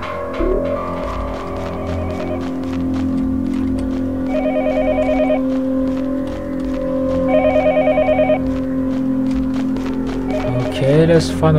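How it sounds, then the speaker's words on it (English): A telephone rings in the horror game Yomawari: Night Alone, giving two clear bursts of trilling rings over a steady droning music bed. A scraping, rising effect comes near the end. "Let's find a phone and answer it."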